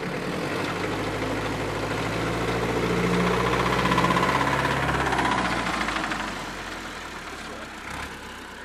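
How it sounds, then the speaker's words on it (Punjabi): A 70-year-old German 4x4 tractor idles slowly, its engine giving a steady low throbbing rumble that swells in the middle and eases toward the end, with a voice speaking over it. "ਤੁਸੀਂ ਦੇਖ ਸਕਦੇ ਹੋ ਸਲੋਅ ਰੇਸ 'ਤੇ ਵੀ ਦੇਖ ਸਕਦੇ ਹੋ ਕਿੰਨਾ ਸਲੋਅ ਚੱਲ ਰਿਹਾ ਟਰੈਕਟਰ ਇਹ ਜੀ"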